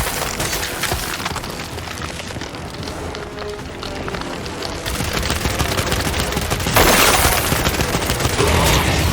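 Dense gunfire rattles through a boss fight in Gears 5, continuous bursts layered over roaring wind and fire, loud and busy, swelling in intensity toward the end.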